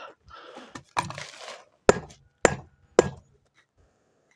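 After some soft clattering, three sharp, evenly spaced hammer blows ring out close by, followed by quiet.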